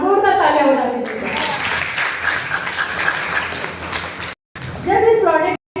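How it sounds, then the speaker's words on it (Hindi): An audience claps loudly at a seminar, a dense burst of applause for a few seconds, with someone speaking into a microphone just before and after. "जोरदार तालियां बजा दीजिए"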